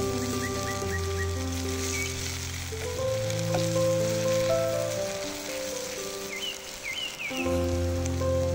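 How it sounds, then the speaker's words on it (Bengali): Raw papaya being stir-fried with ghee and sugar, a close sizzling crackle under a musical background with sustained tones, soft stirring scrapes in between. "ঘি আর চিনি দিয়ে কিছুক্ষণ নেড়ে চেড়ে চুলা থেকে নামিয়ে নেব।"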